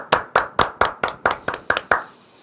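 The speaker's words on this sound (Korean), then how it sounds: "박수!" Nine sharp, evenly spaced hand claps ring out close and loud in quick rhythm, introducing a calligrapher at a talk event, then stop with a short trailing room echo.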